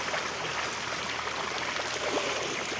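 Water gushes from a motor pump pipe in a village, a steady, continuous rushing splash that holds at an even level throughout with no voices.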